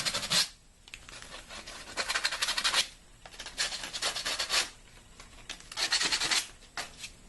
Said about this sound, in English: take my sandpaper again, file those burrs down a bit